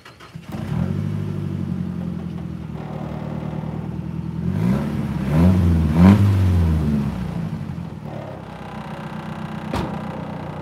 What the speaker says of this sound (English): I didn't clip the bumper on all the way because I'm right by my place, and you can hear it kind of rattling